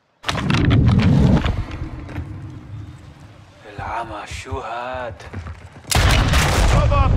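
Bursts of rapid gunfire in Warzone 2.0 DMZ, loud volleys at the start and again near the end, with someone talking between them.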